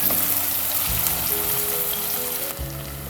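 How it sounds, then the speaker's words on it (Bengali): Onion and garlic fry steadily in a pan with a continuous close sizzle and crackle, with no voices over it. "এই পেঁয়াজ এবং রসুনটা ভেজে নিতে হবে খুব ভালোভাবে"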